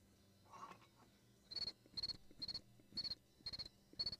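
Cricket chirps used as a comic silence effect, a brief faint chirp followed by six evenly spaced bursts of chirping, clear and alone against quiet background.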